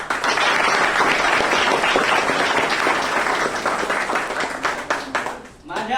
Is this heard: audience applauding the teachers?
yes